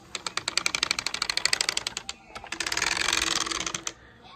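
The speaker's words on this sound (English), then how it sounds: "the wheels always clicked. Matter of fact, they still do." Wheels of a Kirby Ultimate G Diamond Edition vacuum cleaner click as it is pushed, a rapid close run of light ticking that stops briefly, then resumes over a soft whoosh of rolling.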